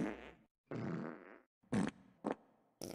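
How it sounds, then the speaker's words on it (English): Cartoon fart sound effects: two long sputtering blasts followed by three short sharp toots, loud and close with gaps of silence between them. "I think he's blowing that hotel building down with only the stinky farts."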